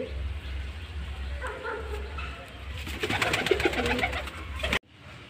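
Pigeons coo softly in a home loft in a few low, rolling calls, with a dog barking briefly nearby and faint background noise before the sound cuts off.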